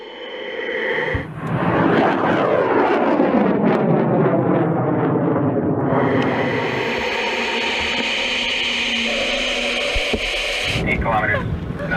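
Rocket engine igniting and lifting off at a launch, a loud sustained roaring rumble with a rising whoosh that holds steady for about ten seconds, with crackle and wind buffeting on the microphone.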